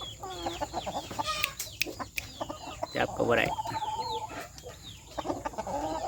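Young roosters cluck and squawk close by, with sharp pecking scuffles and a busy, overlapping chatter. Someone speaks briefly over them.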